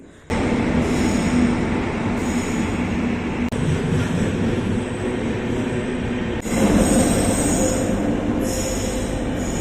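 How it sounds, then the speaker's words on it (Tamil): A train rolls through a railway station loudly and steadily, a heavy rumble with high metallic wheel squeals rising and fading over the noise. "ஒரு ட்ரெயின் இப்போது இப்படி பாஸ் பண்ணுது"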